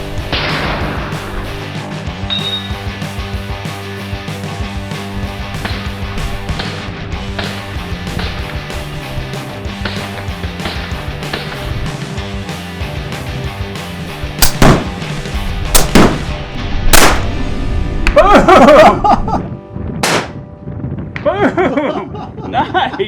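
Several sharp gunshots ring out outdoors at a Utah shooting range while rifles and new optics are tested, loud isolated cracks in the second half over a steady background, with people talking between shots.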